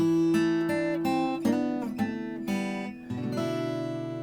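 Acoustic guitar picked in a steady rolling pattern, notes ringing over each other at a moderate tempo, close and unaccompanied.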